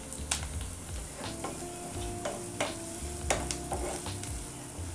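Cubed onions and chopped green chilies softening in a hot pan, a steady sizzle broken by several sharp spatula knocks and scrapes against the pan, close with no voices.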